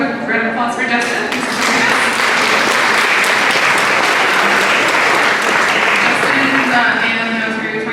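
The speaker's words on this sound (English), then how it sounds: "So we'll just give a quick round of applause for Justin." A conference audience at a talk on tiny-home building codes gives a steady, loud round of applause lasting several seconds, with a voice speaking briefly at the start and end.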